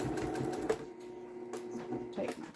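A sewing machine stitching back and forth through several thicknesses of scrap fabric, in short quiet bursts of rapid mechanical whirring broken by brief pauses.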